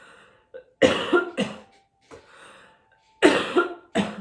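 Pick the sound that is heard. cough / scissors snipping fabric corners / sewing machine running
cough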